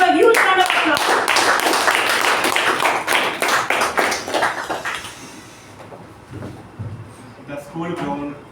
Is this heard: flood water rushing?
no